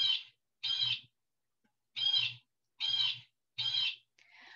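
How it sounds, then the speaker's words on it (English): A blue jay repeats a loud, harsh call five times in a steady rhythm, each note short with brief silent gaps between them. "It's the blue jay. He's loud and bold."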